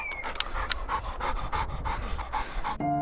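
A hunting dog pants rapidly and steadily right after retrieving a woodcock in the field, loud and close throughout, with no talk over it.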